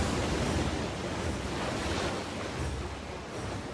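A tidal bore surging up a river, strong enough to tear out trees: a continuous, loud, broadband roar of churning water that holds steady throughout, with no voices.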